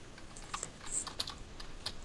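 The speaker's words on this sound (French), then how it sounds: "Je tape mon clavier." A computer keyboard is typed on during Minecraft play, giving a brief run of sharp, close clicks at an uneven pace, alone and fairly soft.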